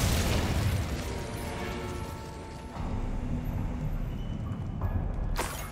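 A fire spell cast in Hogwarts Legacy bursts out as a loud, roaring whoosh that stays steady for several seconds, with a second flare near the end.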